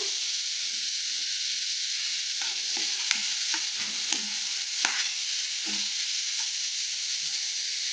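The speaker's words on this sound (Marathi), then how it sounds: "थोडाफार आपण आता फ्राय करून घ्यायचे सगळे व्हेजिटेबल" Onion, vegetables and green chili frying in a pan for a crispy sandwich filling, a constant close sizzle with scattered soft knocks and scrapes as the mix is stirred, no talk.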